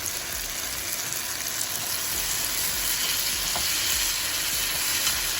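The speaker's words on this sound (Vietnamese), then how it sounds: "Và xào cái cà để nó ra ra" Tomatoes stir-fry in a pan for a tofu sweet and sour soup, giving a steady, close, continuous sizzle and crackle with faint stirring movement throughout and no voices.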